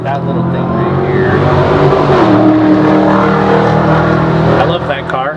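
A Honda Fit engine fitted with a K&N cold air intake revs loudly and steadily up close, holding a sustained roar while people talk over it.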